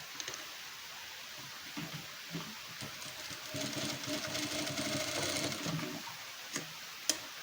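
A sewing machine double-stitches straight tucks on a katori blouse, running in a steady, fairly close mechanical whir with fast rhythmic stitching ticks for a few seconds, with softer start-stop bursts before and after.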